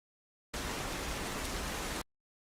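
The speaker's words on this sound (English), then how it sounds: "okay, I gotta get the rain sounds." Steady rain sounds play as background audio, a dense uniform hiss of rainfall that starts abruptly, holds for about a second and a half, then cuts off cleanly.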